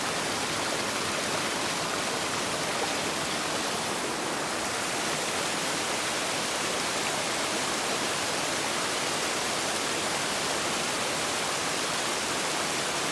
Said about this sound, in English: Been following this stream and I heard this waterfall.